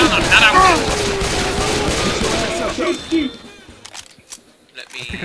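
Gunfire rattles in a dense burst at a Tank in Left 4 Dead, loud for the first three seconds and then thinning into scattered faint shots and game noise, with a voice talking over it.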